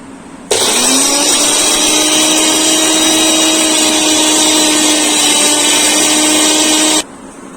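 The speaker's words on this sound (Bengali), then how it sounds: "তো প্রথমে শুকনো লঙ্কা আর আদা রসুনটা আমি বেটে নিলাম" A mixer grinder blends dried chillies, ginger and garlic. Its motor hums loud and steady at close range for about six and a half seconds, then cuts off abruptly.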